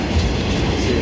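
A CSX maintenance-of-way freight train, including old C&O flat cars built around 1960, rolls past close by with a loud, steady rumble and rhythmic rail clatter, and no talk.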